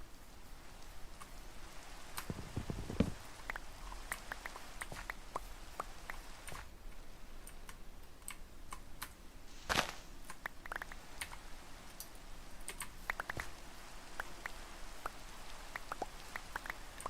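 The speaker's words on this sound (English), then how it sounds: "Rain." Rain falling in a Lord of the Rings video game: a quiet, steady hiss of rainfall scattered with small ticking drops and a few louder taps, with no voices.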